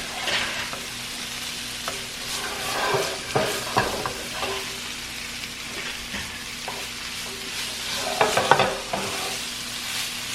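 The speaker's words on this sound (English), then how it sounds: "I'm not cooking this through, it's just browning it." Beef browns in a hot pan for a slow cooker rosemary garlic stew, sizzling steadily with scattered scraping and clinking as pieces are stirred and turned; no talk.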